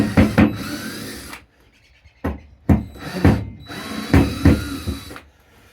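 Power drill with a number 2 Phillips bit driving number 3 screws into trailer sheeting: several short, loud whirring bursts separated by pauses, close by with no talk.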